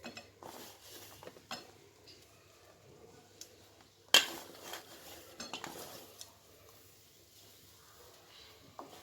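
Jaggery being mixed into flour in a pan for flaxseed laddu, with quiet scraping and clinking of a metal spoon against the pan, irregular strokes and one sharper knock, no voices.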